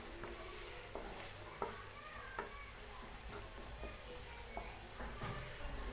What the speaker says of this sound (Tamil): வெங்காயத்தை போட்டதுமே வெங்காயத்தை லேசாக வதக்கி விட்டுக்கலாங்க